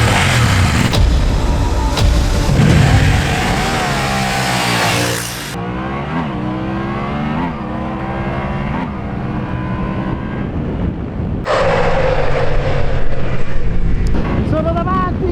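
A Yamaha Ténéré 700 and a KTM 790 Adventure roar and rev hard as they accelerate away from a race start on a track, with a rider's voice talking over the loud engine noise.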